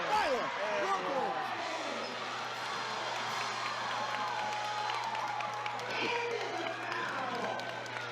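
Crowd at a women's basketball game against Tyler cheering and applauding after a driving layup score, a broad, sustained roar that fades slowly, with squeaks and voices mixed in.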